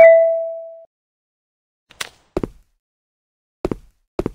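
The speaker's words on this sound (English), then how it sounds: "Can you use your drone to break the glass?" A drone in a monster-school escape game hits a glass window: a bright ding rings out and fades, then after a pause come four short, sharp knocks and cracks, two close together and two more later.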